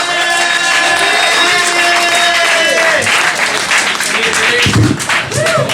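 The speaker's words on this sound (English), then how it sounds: "Big round of applause for John Reaves." A comedy club crowd at Cafe Diem in Richmond gives a comedian sustained applause, dense and loud clapping with some cheering while a voice speaks over it.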